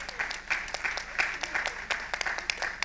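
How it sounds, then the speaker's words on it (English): Audience applause at an Oxford-style debate during a social service summit, a fairly small crowd clapping in a quick, uneven patter, moderately distant and soft. "so round of applause for Grace."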